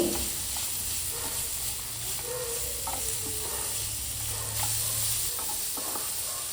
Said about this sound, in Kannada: ಇವಾಗ ಇದಕ್ಕೆ ರುಚಿಗೆ ತಕ್ಕಷ್ಟು ಉಪ್ಪನ್ನು ಹಾಕಿ ಹೈ ಫ್ಲೇಮಲ್ಲಿ 3 ನಿಮಿಷ ಫ್ರೈ ಮಾಡ್ತೀನಿ.